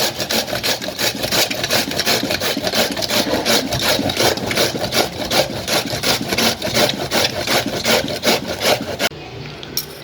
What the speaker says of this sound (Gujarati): મેં 300 ગ્રામ કોબી લીધી છે। હવે આપણે પહેલાં એને છીણી લઈશું।